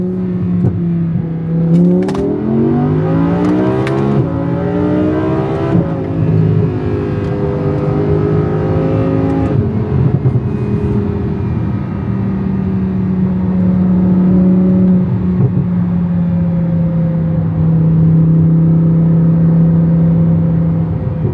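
A car accelerates hard in a quick pull through the gears. The loud, close engine rises in pitch within each gear and drops at every upshift, then settles into a steady drone, with no talking.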